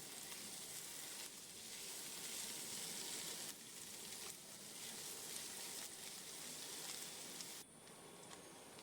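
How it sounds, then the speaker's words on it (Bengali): Chopped onion frying with a little salt in a pan gives a soft, continuous sizzle, fairly faint, with brief stirring shifts and a sudden drop in the hiss near the end. No one speaks. "পেঁয়াজটা যদি একটু নুন দিয়ে ভাজা যায় তাহলে একটু নরম হয়"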